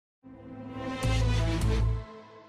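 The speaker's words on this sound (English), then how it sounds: "This is the Tailgater S, which is mostly based on an Audi RS3." A Tailgater S car in GTA V, modelled on an Audi RS3, starts up and its engine revs hard twice in quick succession, a loud, close growl that cuts off abruptly after about two seconds.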